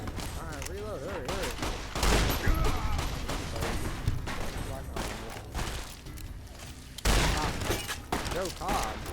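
Gunfire in Fallout New Vegas, with repeated loud shots and bursts of fire, sharp booms and mechanical clatter, while excited voices talk over the action.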